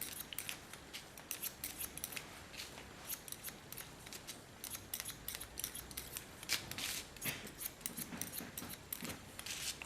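A hairdresser's scissors snip hair in quick, crisp, close bursts, sometimes clustered in rapid runs and sometimes spaced apart, over a quiet background with no talk.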